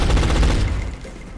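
Suppression gunfire in XCOM: Enemy Unknown, a loud sustained burst of rapid automatic shots that rattles on and then tails off without any talking.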